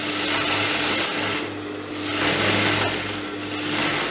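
A sewing machine runs steadily while stitching a sleeve seam, a close, continuous whirring hum that dips briefly twice and picks back up, with no voices.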